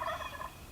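Wild turkey gobbler on public land in spring, gobbling once in a brief, fairly faint, distant-sounding rattle with no talk over it.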